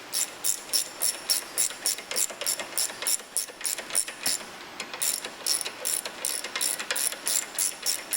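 A ratchet-type torque wrench clicks in quick rhythmic bursts while tightening bolts during an engine lower end rebuild, close and crisp, with short pauses between strokes and no speech.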